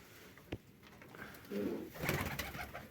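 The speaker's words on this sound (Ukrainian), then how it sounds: "Ось ще в нас ще сидить одна голубка." A female pigeon coos softly nearby, a few low throaty calls with a faint click or rustle before them; no talking.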